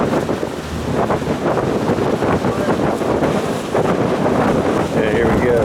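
A ferry crossing a wide river toward Zambia, heard as a continuous loud roar of wind buffeting the microphone over churning water and engine rumble, with indistinct voices faintly underneath.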